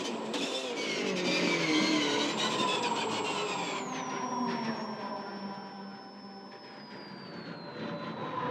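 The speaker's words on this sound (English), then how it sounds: "On board here with Garth, up to the hairpin. Watch and listen." A V8 Supercar from the 2015 Auckland 500 race, heard onboard as it nears the hairpin, keeps up a loud engine note with a sustained whine that drops in pitch as it slows, backed by steady mechanical roar.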